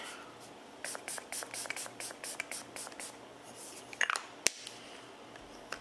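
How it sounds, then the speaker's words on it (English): A series of quick, close spritzes of makeup setting spray onto a face, several short bursts in a row, followed by a couple of soft clicks. "shake it up really, really good to get it incorporated, and then spray it on your face"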